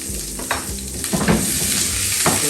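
Onion sizzles as it fries in melted butter in a pan, a continuous close hiss with a few soft stirring scrapes and clinks of a utensil, no voices.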